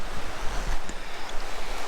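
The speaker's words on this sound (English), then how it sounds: "And this is the stream right now. It is just bank to bank" A stream running bank to bank during a record high runoff gives off a continuous broadband rushing roar, loud and close, with heavy low wind-like rumble and no speech.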